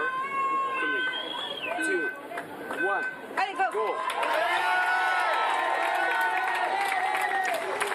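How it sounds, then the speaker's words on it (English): A crowd roars and cheers loudly along the course at a Paralympic para cycling road time trial in Paris, rising into sustained cheering and clapping, with a commentator talking over the noise. "Big roar from the crowd"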